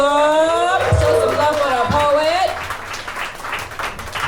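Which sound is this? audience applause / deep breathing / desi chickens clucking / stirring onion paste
audience applause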